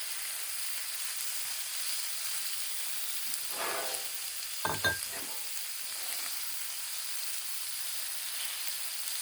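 Thin, flat carne asada meat sizzling on a griddle, a steady hiss of frying under a couple of brief louder bursts of stirring or turning near the middle.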